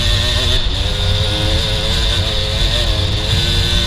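A KTM-style XC dirt bike with a 5-speed gearbox and 13/50 sprocket gearing roars steadily at high revs while racing a Farm Jam lap, the engine loud and close throughout with constant drone and wind noise.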